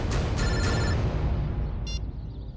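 A telephone rings with a call from an unknown number, two short bright trills early on and another faint one near the end, sitting over a loud, dense wash of background noise.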